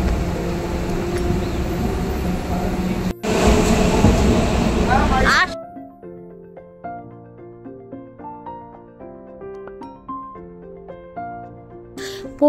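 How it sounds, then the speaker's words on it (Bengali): A Shantipur local train runs after departure, a loud, steady rumble and rattle heard from inside a carriage, cut off midway and replaced by soft background music. "এই যে ট্রেন ছেড়ে দিয়েছে এখন।"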